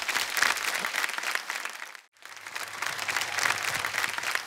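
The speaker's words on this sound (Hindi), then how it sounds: "सब खुशी से, दिल से सोनू बाजी के लिए खड़े होकर ताली बजा रहे हैं" A standing crowd claps warmly for Sonu Sood, a dense wash of applause that briefly drops out midway before resuming just as full, no voices audible.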